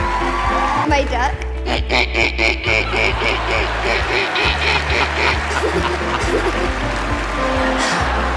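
A person mimics a duck at a talent show audition before judges, with a string of nasal, rhythmic quacks, delivered close and steadily with a few breaks.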